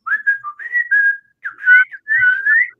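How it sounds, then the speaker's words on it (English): A person whistles a bright, wavering melody in several short phrases with brief gaps, close and clear, with no talking over it. "Whistling's hard. It's harder than it looks."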